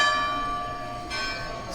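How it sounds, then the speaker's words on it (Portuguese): Church bells of Candelária Cathedral ring as a sustained, layered metallic tone with many steady overtones, moderately loud and fairly distant, with no voices over them. "Estamos nesse momento aí ouvindo os sinos da famosa Catedral da Candelária"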